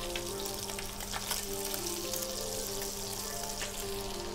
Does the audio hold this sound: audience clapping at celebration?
no